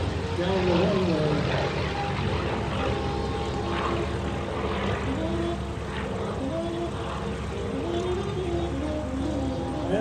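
A Curtiss P-40 Warhawk flies low over the runway at an airshow, its propeller engine droning loudly and steadily throughout, with an announcer talking over it.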